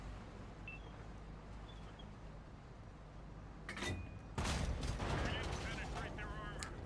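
Tank cannon shots in a tank video game, with two sharp bursts midway followed by a louder, sustained blast and rumbling debris, over a steady low engine hum and faint game background noise.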